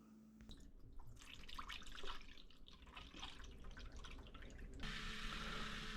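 Coolant pump on a 2018 Chevrolet Camaro charge air cooler circulates fluid during a flow test, a faint trickling and dripping of liquid that grows into a steadier pour near the end.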